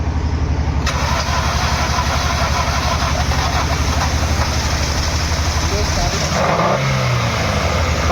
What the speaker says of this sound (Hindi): यहाँ देख सकते हैं गाड़ी भी हमारी स्टार्ट हो चुकी है।